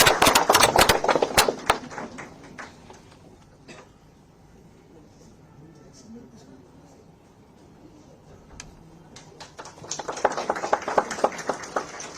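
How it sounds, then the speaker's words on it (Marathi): Audience applause at an award felicitation ceremony: loud, dense bursts of clapping at the start and again at the end, with a quieter stretch of room noise between them. "आपण जोरदार टाळ्या वाजून त्यांना"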